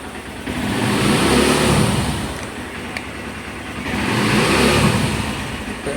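A Honda CB150 Verza motorcycle engine runs and revs, two broad swells of rising engine roar around a steady idle, fairly close and loud with no talk.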